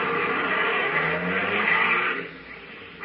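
Car engine sound effect from a 1941 comedy radio drama, a steady engine hum with a brief rising rev that fades out near the end, no voices over it.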